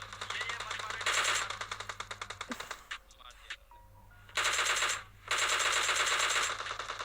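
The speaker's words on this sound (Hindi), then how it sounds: "अब ये बंदे उधर फायर कर रहे थे, मुझे मास्टर के कवर के लिए इनको मारना पड़ा।" Automatic gunfire in a shooting video game, bursts of rapid shots in quick rhythmic strings, loud and close, broken by short pauses while someone talks over parts of it.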